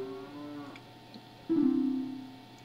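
A cartoonish cow moos twice in the video game Majora's Mask, a short low call followed by a louder, longer bellow that tails off, heard alone without talk.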